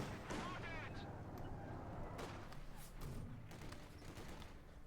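Mortar fire in the World War II strategy game Company of Heroes 2, several booming thuds and blasts mixed with other battle noise over a few seconds, loud and close, with a voice talking over it.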